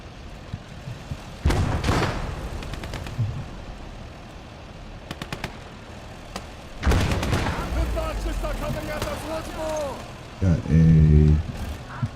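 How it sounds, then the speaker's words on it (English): Cannon and artillery fire in the WWII video game Call to Arms - Gates of Hell: Ostfront, heard as several loud booming blasts and bursts of gunfire spread across a noisy battlefield soundscape. "You got something firing a cannon at us from over here"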